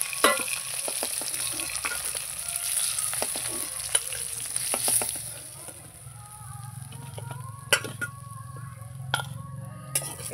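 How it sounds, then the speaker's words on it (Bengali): The rest of the katla fish frying in oil crackle and sizzle up close, a busy hiss that eases midway, punctuated by sharp metallic clinks and scrapes of a spatula against the pan. "এবার বাদ বাকি মাছগুলো ভেজে নেব।"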